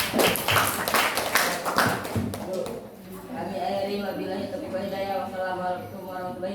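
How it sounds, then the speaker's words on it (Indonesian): Classroom students clap for their teacher in a quick burst of sharp, close claps that lasts about three seconds, then fades as voices take over. "Tepuk tangan dulu dong buat Bapak."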